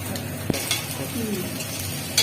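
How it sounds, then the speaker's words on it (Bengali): Egg frying in oil in a wok gives a steady, close sizzle, with a sharp clank of a spatula partway through. "এইভাবে ডিমটাকে ভেজে তুলে নেবো"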